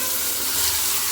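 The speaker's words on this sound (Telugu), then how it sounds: "Fish fry చేసుకునేద్దాం." Fish fries in very hot oil, a loud, dense, continuous sizzle and crackle heard close up with no talking.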